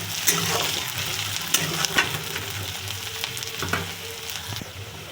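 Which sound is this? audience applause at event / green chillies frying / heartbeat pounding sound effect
green chillies frying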